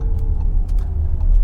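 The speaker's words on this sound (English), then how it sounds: "So this is how the Audi e-tron accelerates." An Audi e-tron electric car accelerates with almost no motor sound, heard from inside as a low, steady road and cabin rumble with a faint whine and a few light ticks.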